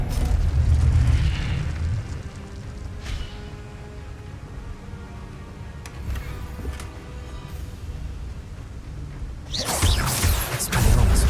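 Spell combat in Hogwarts Legacy with the disarming spell cast, a heavy booming burst at the start, quieter whooshes and crackles in between, then another loud explosive blast near the end.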